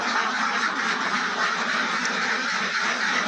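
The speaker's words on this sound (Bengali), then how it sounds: "আমার খামারের হাঁসগুলো" A dense flock of ducks on a duck farm quacks continuously at close range, a loud, unbroken chorus with no pauses.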